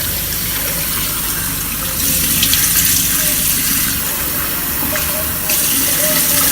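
Tap water runs steadily and loudly at a bathroom sink during a face rinse, a continuous broad splashing rush that swells slightly twice with no voices over it.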